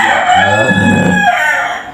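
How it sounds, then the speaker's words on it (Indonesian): A rooster crows loudly and close by in one long drawn-out call, with other chickens around it, nothing else heard. "ayam lagi berisik ah"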